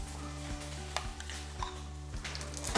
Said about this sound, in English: So my fritters have been frying for about 4 minutes.